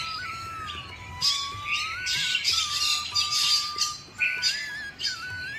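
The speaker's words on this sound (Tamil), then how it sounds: "ஏர்லி மார்னிங் நம்ம தோட்டத்தில் எப்பொழுதுமே நிறைய குருவிகள் கத்திக்கிட்டு சவுண்டு போட்டுட்டு இருக்கிறது" Many small birds, sparrows by the description, call and squawk together in a garden in the early morning, a steady busy chatter of chirps and shrill calls with a thin whistle-like tone running through it, fairly close and continuous.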